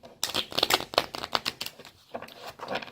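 Tarot cards shuffled close up in quick riffling bursts, a crisp papery flutter with a brief pause before a final shuffle.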